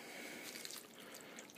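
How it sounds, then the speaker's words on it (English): Store-bought chicken broth poured from a container into a pot for chicken stew, a soft, steady liquid splashing and trickling that runs quietly and unbroken for the whole moment. "Pour that whole container in there"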